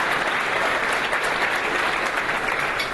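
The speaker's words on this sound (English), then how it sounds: "let's give them a round of applause" Steady, dense applause from a conference audience at a general session, sustained and evenly loud throughout the short stretch with no talk over it.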